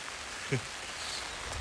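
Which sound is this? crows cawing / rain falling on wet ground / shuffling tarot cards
rain falling on wet ground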